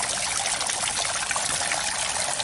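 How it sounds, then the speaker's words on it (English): Sulfur spring water trickles and splashes steadily at close range, a continuous bright liquid hiss with no voices over it. "Definitely spring water."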